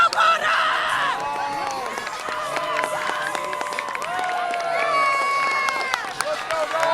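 Homecoming football crowd at Waddell Field cheering for the Bulldogs, loud shouts and whoops from many voices with whistling and rising cries, continuous throughout.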